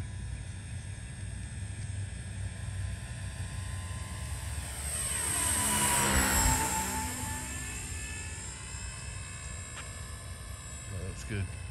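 A Dynam RC P-47 model airplane on its maiden flight passes overhead, its engine whine rising and falling in pitch as it approaches and recedes, loudest midway, over open-air field ambience.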